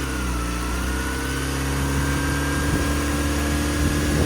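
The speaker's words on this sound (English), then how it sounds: "No, give it another rev." A 2018 Ford Transit van engine, suspected of a small air leak, running steadily at a low idle-like drone with a gradual slight rise in pitch, loud and close with no talking.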